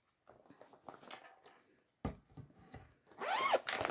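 Zipper on a pink zippered mesh bag being pulled, short close rasping zips with a longer quick zip toward the end, no talk.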